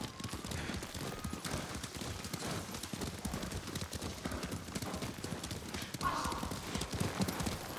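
Horse hooves clip-clop steadily over a dense, busy game soundscape in Ghost of Tsushima, with a brief whinny-like tone and background ambience layered throughout.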